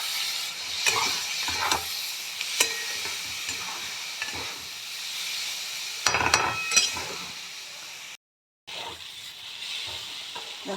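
Washed rice fries with vegetables in a pan, giving a steady sizzle broken by repeated scraping and clattering strokes of a spoon, close up, with a brief silent gap and no talk.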